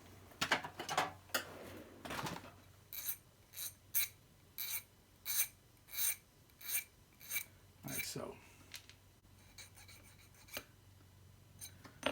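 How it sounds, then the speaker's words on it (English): A hand file rasps across model train couplers in a quick run of even, rhythmic strokes, close and crisp, with a few scattered scrapes before and after the steady filing. "And then I'll take a file and finish filing them down."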